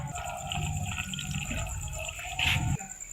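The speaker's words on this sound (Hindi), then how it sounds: "इसमें हम मज़ीद पानी डालेंगे" More water is poured into a bowl that holds a vinegar-treated mixture. The splashing, gurgling stream runs close and steady, then swells briefly before stopping near the end.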